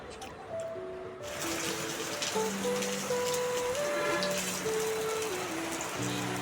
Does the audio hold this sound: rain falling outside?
yes